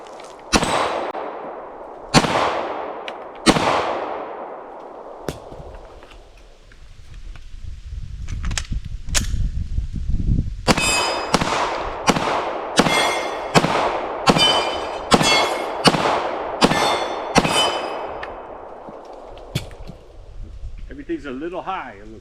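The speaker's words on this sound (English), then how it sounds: "Don't rush the shot. Rush the shot, you miss like I did." Rifle shots during target practice at an off-grid cabin in Vermont, a dozen or so sharp cracks with ringing echoes, first spaced apart and then in a steady run of evenly timed reports. Voices talk between shots.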